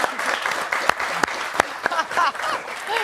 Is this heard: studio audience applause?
yes